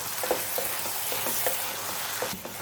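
Spicy prawn gravy sizzling steadily in a pan while a spoon stirs with soft scraping knocks, close and moderately quiet with no talk.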